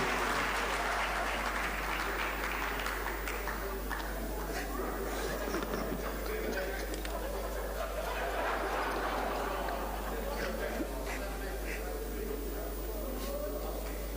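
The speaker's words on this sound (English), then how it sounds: "With a round of applause, let's welcome him" Sustained round of applause from an audience at an education ministry event, many hands clapping steadily for over fourteen seconds, fairly distant, with scattered chatter and a low constant hum beneath.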